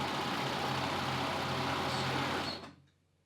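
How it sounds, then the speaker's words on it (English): A serger overlock sewing machine stitches through fabric with a steady, fast whirring hum that runs loud and close for about two and a half seconds, then quickly winds down into quiet. "I'm gonna do this with the serger and hopefully it's gonna work"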